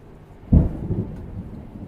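A single rumble of thunder rolls in at mid-clip, loud at first then fading into a low, lingering grumble over a quiet indoor background.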